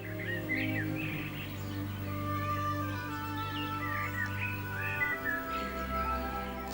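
Young tree sparrows and blue tits at a garden feeder close to a window, with busy overlapping chirps and short calls throughout, moderately loud against a low steady hum.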